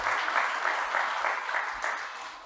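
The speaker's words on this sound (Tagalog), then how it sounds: "Come on, pumalakpak yung gustong maligtas." A church congregation claps together during a worship service, a dense, steady burst of many hands at moderate distance, rising and falling slightly for a couple of seconds with no speech over it.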